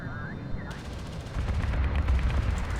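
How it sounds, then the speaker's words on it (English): Anti-air turret volleys from a strategy game, fired at a gunship: a crackle of rapid gunfire and booms that grows denser and louder partway through, under a steady hum of battle noise. "One more volley from the HEC anti-air will do it."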